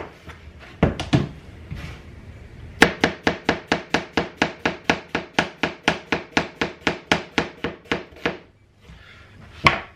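A knife chops a red onion on a board in a steady, rapid run of about twenty crisp, evenly spaced strikes, preceded and followed by a few scattered single cuts, close and clear with no talking.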